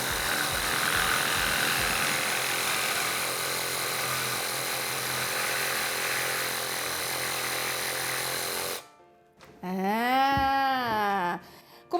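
A MAXX PRO cordless reciprocating saw cuts through PVC pipe with a loud, steady buzzing rasp for several seconds, then stops abruptly, followed by a brief voice.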